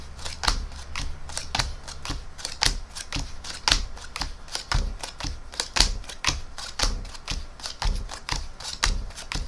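Playing cards are dealt one by one into piles, face down and face up, making a steady rhythm of crisp, close snaps and slaps that continues without a break.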